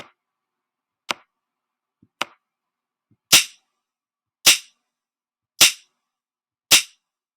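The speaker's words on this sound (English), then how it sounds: "And then I'm going to put in some drums." Programmed drum pattern from a browser music toy: sharp electronic hits, a few light clicks then four louder evenly spaced bursts about one second apart, alone with no talking.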